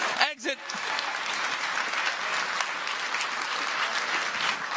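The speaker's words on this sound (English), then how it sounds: "Let's give a round of applause as they exit." Sustained audience applause at a startup pitch competition finale as judges and speakers leave the stage, a steady dense wash of clapping from a large crowd, with a brief voice at the start.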